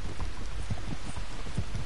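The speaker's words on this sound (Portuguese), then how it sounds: "Tá chovendo, tá frio." Steady rain in the Red Dead Redemption 2 game world, a dense hiss of drops on surfaces with soft thudding hoof-like patter underneath, continuous and fairly close.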